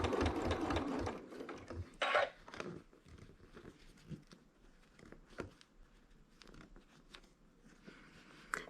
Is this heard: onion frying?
no